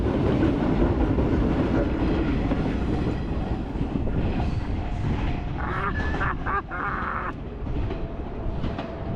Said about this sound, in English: It's a Pokemon train